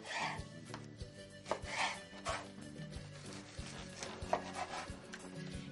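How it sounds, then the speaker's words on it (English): A knife slicing medium tomatoes on a cutting board, a series of soft irregular cutting strokes and board taps close by, fairly quiet with faint background noise and no speech. "So I'm going to slice them up. Then I take the slices and I cut them in half."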